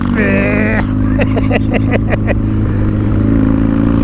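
A custom BMW R nineT motorcycle engine runs with a steady, loud, rumbling drone throughout, while a voice speaks over it and a brief rhythmic pulsing comes and goes.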